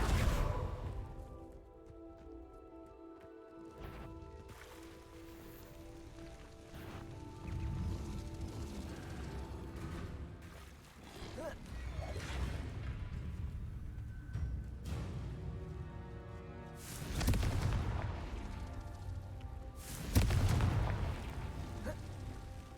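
Confringo fire spell explosions in the video game Hogwarts Legacy, several heavy booms and bursts spaced out over a low rumbling game soundscape with a sustained musical hum, the blasts loud against an otherwise quiet background.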